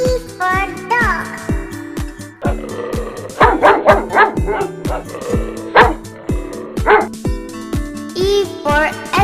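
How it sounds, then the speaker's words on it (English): A dog barks in short, repeated yips and bow-wows over a bouncy children's music backing, with a few whimpering notes, loud and close. A voice may also be heard alongside the music. "D for dog."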